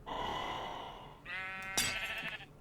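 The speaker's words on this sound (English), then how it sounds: "So, we have a sheep. This is our test subject." A sheep bleats in the Minecraft Hexxit modpack video game, two drawn-out wavering bleats in a row, clear and close with no talking.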